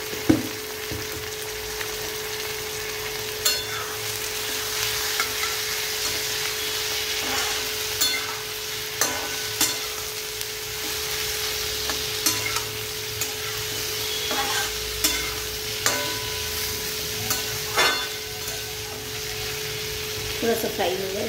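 Chaurai saag (amaranth greens) frying with turmeric and salt gives a steady sizzle with occasional stirring scrapes. A faint steady hum sits underneath, and no one talks.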